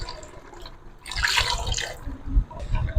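Water poured into a pot of black chana curry, a rushing, splashing burst of about a second over a steady low kitchen rumble, fading back to quieter background.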